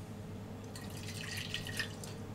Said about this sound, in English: first thing we're gonna do is just add some water.